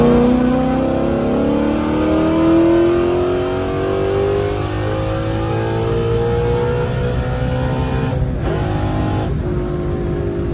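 A FBO CJ 5.0 with a very loud exhaust accelerates hard in third gear from about 50 mph, its engine note climbing steadily and roaring close and continuous with no talk over it.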